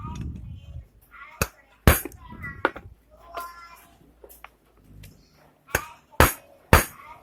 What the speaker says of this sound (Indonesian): bautnya ini harus dipukul seperti biasa biar nanti pas pelepasannya itu enteng